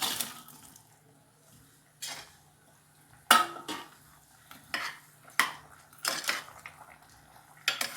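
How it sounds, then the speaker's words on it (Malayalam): Fried chicken pieces go into a butter chicken gravy and get stirred, heard as scattered clanks and scrapes of a spoon against the pot, close and intermittent, with soft wet stirring between. "ഇനി ഇതിലേക്ക് നമ്മൾ വറുത്ത് വച്ചിരിക്കുന്ന ചിക്കൻ ചേർക്കാം"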